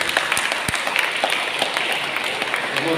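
A church congregation claps steadily for the children during Sunday Mass, a dense, continuous burst of many hands filling the room for the whole moment, with no voices standing out.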